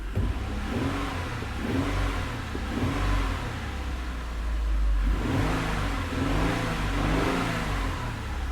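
A repaired Ford car engine runs smoothly after an injector fix, a steady continuous mid-frequency hum close by with gentle swells in revs, no voices over it.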